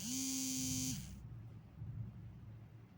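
Sewing machine stitching a strip along a blouse neckline, a close steady motor buzz that cuts off after about a second, leaving faint handling noise.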